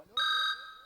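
A short electronic tone sounds once, a steady high beep lasting under half a second before fading.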